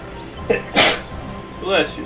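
A single sharp sneeze bursts out loudly at close range, bracketed by short bits of nearby talking before and after.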